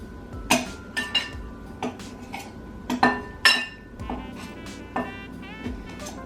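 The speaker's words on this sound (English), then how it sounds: "I'm just going to use 2 knives and cut the butter into the Carbquik" Two table knives cutting butter into Carbquik low-carb baking mix until crumbly, giving sharp metallic clinks and scrapes in irregular bursts against a bowl, close up and moderately loud, with no talking.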